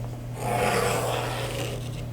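Blade scoring interior vinyl film laid over a countertop, a steady close rubbing rasp lasting about two seconds over a low constant hum, with no talking.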